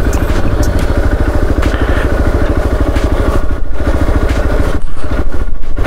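A Hero XPulse motorcycle engine runs close on a rough off-road mountain track, loud and steady with a throbbing, chugging beat and a rattly edge, and no talk over it.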